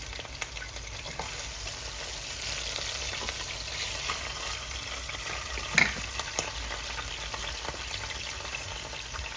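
Sliced steak frying in a pan gives a continuous hiss and crackle of moderate loudness, fairly even throughout with one brief louder clatter near the middle and no speech.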